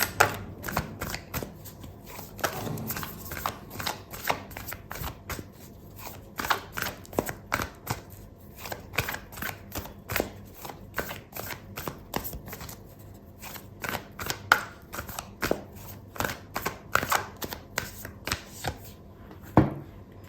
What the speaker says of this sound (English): I'm gonna pull out an oracle card for you